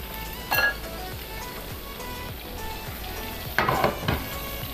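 Chicken pieces sizzle steadily in hot oil in a pan, with a few clinks of utensils against the cookware and brief louder stirring bursts near the start and end.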